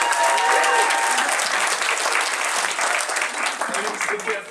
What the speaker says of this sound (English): So round of applause, guys,